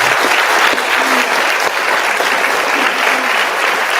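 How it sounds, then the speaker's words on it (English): Welding competitors at a Connecticut maritime welding event get a round of applause from the room: dense, steady clapping that fills the whole moment, close and loud, with no voices rising above it. "we just give them a quick round of applause for"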